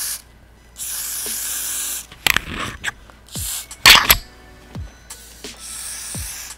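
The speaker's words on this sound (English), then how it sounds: "I'm just going to add some Got to Be spray to help melt the lace" Got2b spray hisses onto a lace front wig in several sharp bursts of varying length, close and loud, separated by quiet pauses.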